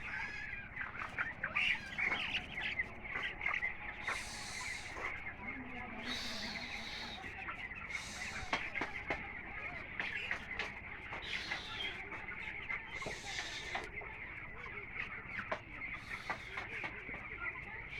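Farmed birds kept in a raised pen give soft, scattered calls and rustling against a faint, steady background, with a voice speaking quietly at times.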